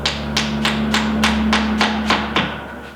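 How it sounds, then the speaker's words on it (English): Roofing nails are hammered into high-density foam during a window installation, with about eight sharp, evenly spaced hammer strikes at close range and a steady hum underneath. "as you see, I'm nailing these into place"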